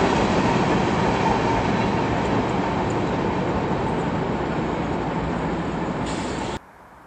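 A loud, steady rumble of a BNSF freight train of empty cars rolling past nearby in eastern Washington, with rhythmic wheel clatter throughout before the noise abruptly cuts off near the end.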